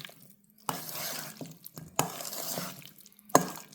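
A shrimp and salmon salad with tomatoes is tossed in a bowl, with three distinct clattering stirs of utensils and wet food spaced apart, close and moderately loud, with quiet pauses between.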